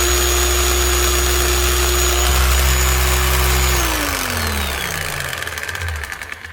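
A repaired power tool with a fixed oil leak, running steadily and loud, its motor tone then winding down and slowing toward the end.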